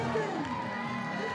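A 20,000-plus crowd cheers and roars continuously at an Alexandra Palace soapbox race, a dense, steady wash of voices at fairly even loudness throughout.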